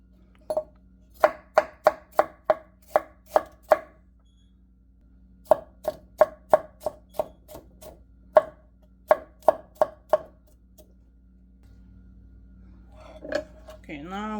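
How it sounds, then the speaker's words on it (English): Knife chopping a yellow bell pepper on a cutting board, a steady series of sharp close knocks in two bursts, with a few softer handling sounds near the end. "Okay, now I'm gonna finish chopping"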